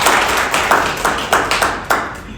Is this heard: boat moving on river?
no